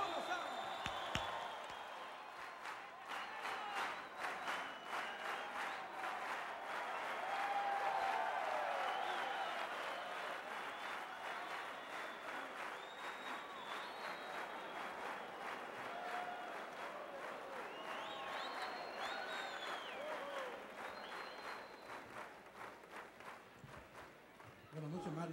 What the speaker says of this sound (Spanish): ese aplauso fuerte para Roberto Rodena y su apodo.